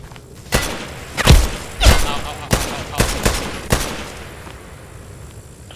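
Gunfire in a video game: about eight sharp shots crack out at irregular intervals, several with heavy booming thumps, loud and close, with a quiet gap at the end.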